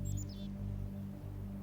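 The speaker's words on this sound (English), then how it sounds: "Bird!" Several quick, high bird chirps sound near the start, followed by a steady low hum of ambient game music in the video game Riven.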